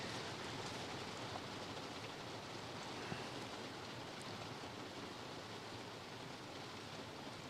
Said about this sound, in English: It's not going to be easy to hit in this rain